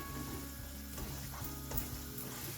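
Lamb chops masala cooks in a pan with a continuous, dense sizzle and crackle of frying, steady and close, with a faint low hum running underneath.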